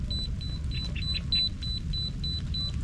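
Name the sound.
fishing bite alarm beeping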